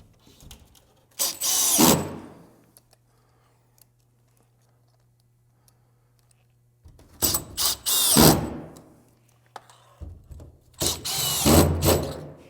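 A power drill drives drywall screws into a wooden bottom plate in three close, loud whirring bursts, with a faint steady hum in the quiet gaps between them.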